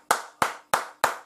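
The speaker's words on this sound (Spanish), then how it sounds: "y un aplauso" Four sharp hand claps in an even rhythm, close and fairly loud, each ringing out briefly before the next, with no voices.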